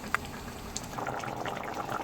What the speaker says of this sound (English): So I'm going to let it bubble a little more